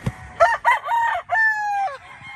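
Broodcock rooster crowing once up close, a loud clear cock-a-doodle-doo preceded by a few short clucking notes.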